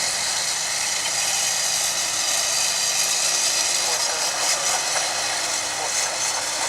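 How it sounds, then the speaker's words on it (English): An Airbus A319 airliner arriving from Monterrey, Mexico, at Dallas/Fort Worth International Airport roars steadily with loud, broadband jet engine noise that stays constant throughout, with no other sounds standing out. "Listen to those engines roar."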